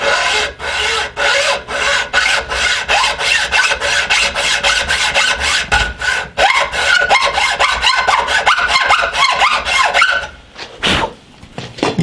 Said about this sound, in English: I'm going to start off with a hacksaw here, just because it has a pretty fine blade and I can control it pretty well.